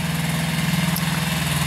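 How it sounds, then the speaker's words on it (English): An 18 hp two-wheel-drive Kubota diesel tractor engine runs at a steady idle, close and loud, with an even low throbbing pulse and no voices. "think it's about an 18 horsepower tractor"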